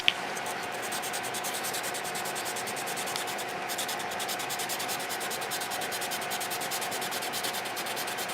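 A vinyl decal on an acrylic sign is sanded by hand with quick, continuous back-and-forth scratchy rubbing, close and steady throughout, with no voices.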